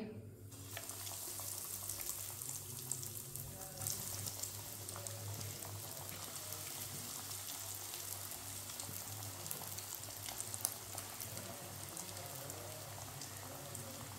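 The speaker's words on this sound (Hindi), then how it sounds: "ऑयल हमारा अच्छी तरह गर्म हो चुका है। अब एक एक पीस करके डाल लेंगे।" Breaded potato donuts fry in hot oil with a steady, dense hiss and crackle that is faint and continuous throughout, with no voices.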